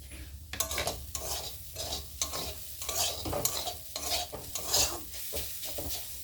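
Dal frying with gram flour for kachori, with rhythmic scraping strokes of a spoon against the pan over a light sizzle, each stir rising and falling in quick repeated sweeps.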